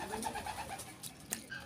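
Racing pigeons coo softly in a loft, a few low, rounded calls repeating at close range, ending with a sudden sharp knock.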